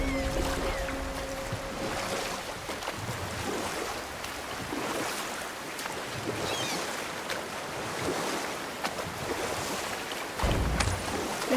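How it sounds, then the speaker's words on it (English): A wooden boat is rowed across the water in God of War, with a steady wash of waves and wind and soft, regular oar strokes. A dull knock comes near the end. "Keep rowing towards the statues of the oarsmen"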